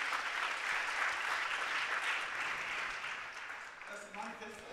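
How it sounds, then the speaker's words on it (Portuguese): Audience applause fills a church or conference hall after a performance at a gathering on social principles, a steady broadband wash of clapping that fades slightly near the end as a voice begins speaking. "Outra salva de palmas."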